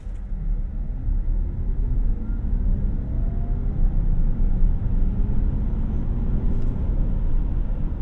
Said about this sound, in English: let's do a quick 0 to 60 here. Come to a complete stop and floor it.